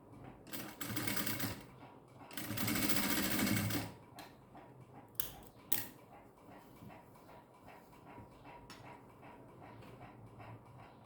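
Electric sewing machine stitching thin piping onto a garment sleeve, running in several bursts of fast, steady whirring with pauses between, close and fairly loud.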